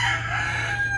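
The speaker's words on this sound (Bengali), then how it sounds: "আর এইগুলো হচ্ছিল টাইগার জাতের মোরগ" A Tiger breed rooster at a farmhouse crows in one sustained, loud, nearby call filling the whole moment, with no voices.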